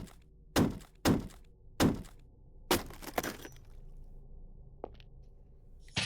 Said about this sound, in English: and then I use a fire axe.